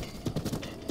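In Zelda: Breath of the Wild, the horse Epona gallops with a quick, rhythmic clip-clop of hooves, close and moderately loud, over a faint background.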